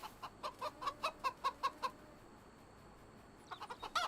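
A chicken in the farming game Farming Simulator 25 clucks in a quick regular run of about a dozen short notes, pauses, then starts a few more clucks, fairly faint over quiet background.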